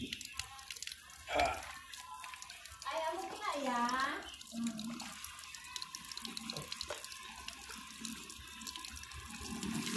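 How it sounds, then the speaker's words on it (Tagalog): Water poured out and splashing into a sink or drain during restoration of a dead battery containing acid, running steadily under brief, scattered talk from nearby people. "Itatapon natin yung tubig nyo guys."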